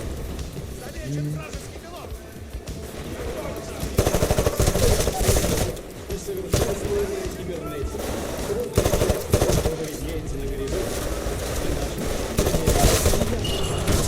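Automatic gunfire in Titanfall crackles in repeated bursts, heavy and close, with a player talking over the shooting throughout.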